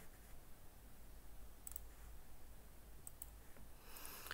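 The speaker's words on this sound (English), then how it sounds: "So I'm clicking" A computer mouse clicks faintly while someone draws in Inventor, with a few sparse, soft taps over a very quiet background hum.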